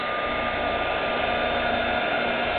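A heat tool blows steadily and loudly to melt clear embossing powder, a constant close-up whoosh with no pauses and no talking.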